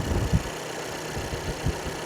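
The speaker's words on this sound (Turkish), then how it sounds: "Motorun sesini bir dinleyelim." A 2025 Renault Kangoo Multix with a 1.3 TCe 130 HP turbo petrol engine (1333 cc) and EDC gearbox idles nearby, a steady low rumble with faint, regular pulsing and no talk.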